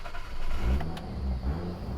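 A turbocharged RB30 engine in a GQ Patrol 4x4 revs up with a deep rising rumble, swelling and easing across two seconds, heard fairly close with no talk.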